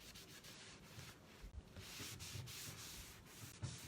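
Soft, steady rubbing of a cloth buffing wax onto an upcycled wooden kitchen cabinet door, close and quiet, with a few brief pauses between strokes.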